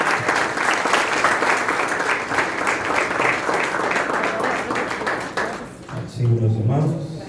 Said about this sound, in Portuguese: Quem recebeu o bispo nessa noite com as palmas em nome de Jesus